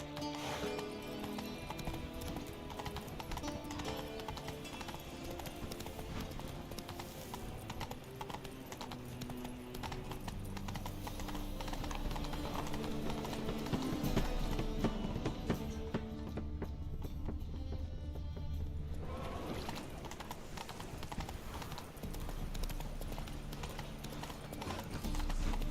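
Roach the horse gallops in The Witcher 3: Wild Hunt, a steady rapid clip-clop of hooves running throughout over a dense game music score, with an occasional whinny.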